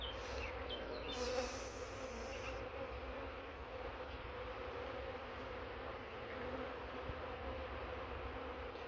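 A dense, steady buzzing of many honey bees fills the clip, continuous and close, with no voices, from a Carnica colony hive.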